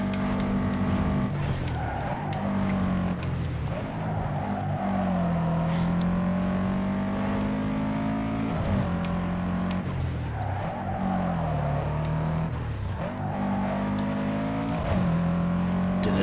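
Engine roar and tire squeal fill the track as a race car corners hard in Need for Speed Underground 2, the revving rising and falling continuously with skidding, loud and close throughout.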